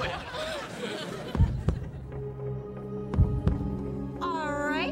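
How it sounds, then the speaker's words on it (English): A sitcom heartbeat effect: paired low thumps pulse twice amid a droning hum, with people talking over it and a rising warbling tone at the end. "That's the sound of our beating hearts."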